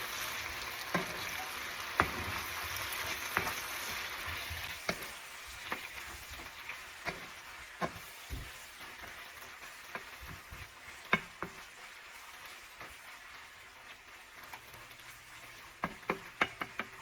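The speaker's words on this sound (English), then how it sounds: "I'm just going to add my saltfish, give it a stir." Saltfish frying in a pan for ackee and saltfish, a steady sizzle broken by spoon scrapes and knocks against the pan, clicks bunching toward the end.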